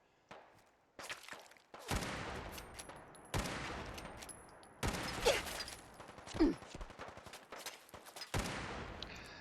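Enemy gunfire in the Fallout 4 video game, repeated bursts of rapid shots and volleys crackling over several seconds, loud and close, with no talking.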